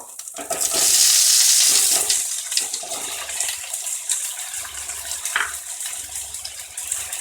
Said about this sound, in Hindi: और मैं इसको कुछ देर सौटे करूंगी